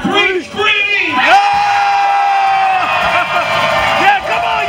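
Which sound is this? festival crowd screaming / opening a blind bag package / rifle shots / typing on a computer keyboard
festival crowd screaming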